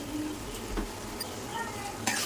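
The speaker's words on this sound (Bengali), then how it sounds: "এখন হলুদ, মরিচ, জিরে এগুলো দিয়ে ভালোভাবে কষিয়ে নেব" Turmeric, chili and cumin powders frying in a pan: a soft, close sizzle with a few quick stirring scrapes over a brief stretch, with some speech in the background.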